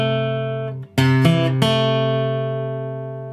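Acoustic guitar melody in bluegrass style from "Under The Double Eagle": a ringing held chord, then three sharp picked down-stroke notes about a third of a second apart, each left to ring and fade, close and alone.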